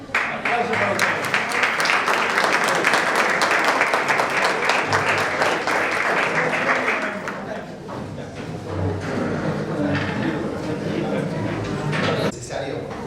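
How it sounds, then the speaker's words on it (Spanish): Audience applause at a lecture, a dense loud burst of clapping from a large crowd for about seven seconds, then thinning to scattered claps with murmuring voices and some talk underneath. "Aplauso para ustedes."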